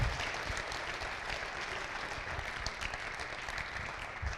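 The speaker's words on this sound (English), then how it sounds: "So round of applause for our 14 schools improving." Folks at a Banneker High School CCRPI celebration applaud the improving schools, a soft, steady patter of many hands clapping that continues evenly throughout.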